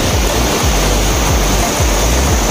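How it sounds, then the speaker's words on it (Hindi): Umbrella Waterfalls near Abbottabad, Pakistan: a steady, loud roar of falling water fills the scene close by, constant and broadband, with faint low thumps repeating underneath. "ऊपर से पानी आ रही है इधर"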